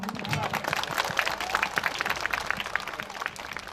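Audience applause at a Tripura Police event, a dense run of clapping from a crowd held steady for several seconds, with music or voices faintly underneath.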